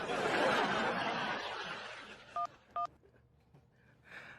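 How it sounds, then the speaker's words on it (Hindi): Two short, clean telephone keypad tones heard in quick succession after fading background chatter and laughter, followed by a faint further tone. "तिवारी जी ने फोन कीजिए अभी"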